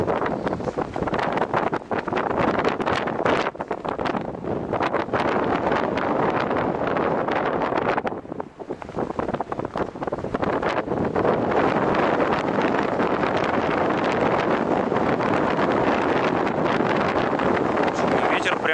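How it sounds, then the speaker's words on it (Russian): Loud, gusty wind buffets the microphone in a constant roar with a brief lull partway through, and a voice speaks faintly under it. "Чудный ветер прям красавчик."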